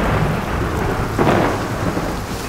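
Loud thunder rumbles over a steady wash of heavy rain, with a brief swell of rumble midway and no voices.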